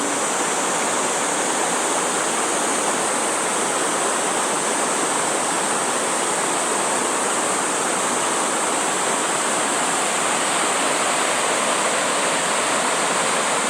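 Geumnyung Falls, the eleventh of the twelve waterfalls on Seongchisan in Geumsan, South Chungcheong, roars with a dense, constant rush of falling water, loud and unbroken throughout with no voices.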